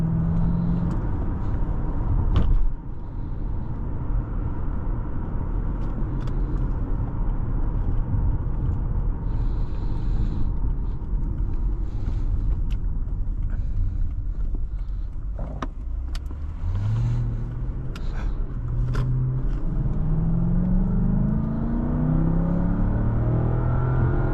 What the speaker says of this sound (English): Man, that V8 sounds so good. These Lexus V8s are just awesome.